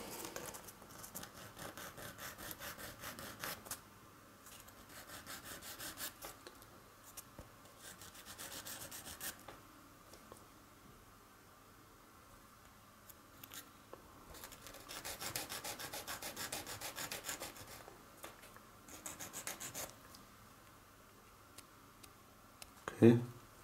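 A DeAgostini Millennium Falcon model part is sanded by hand in bursts of soft scratchy rubbing separated by quiet gaps, faint and close, ending with a louder knock.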